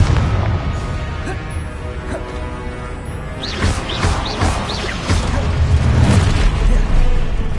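Confringo blasting spell going off in Hogwarts Legacy, a run of loud booming bursts and crackling impacts that build through the second half over a dense rumbling game soundscape.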